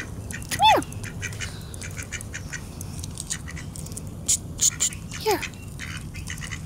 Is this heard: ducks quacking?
yes